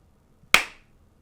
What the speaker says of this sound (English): All right, one more clap.